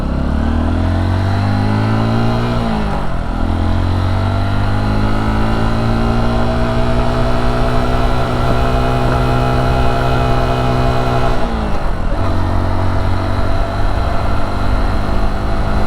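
A 2023 Honda XR150L motorcycle engine drones loudly and continuously while riding, its pitch dipping twice as gears change and then climbing again, close-up with no talking.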